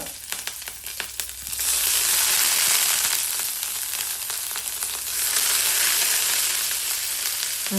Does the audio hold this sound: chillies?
yes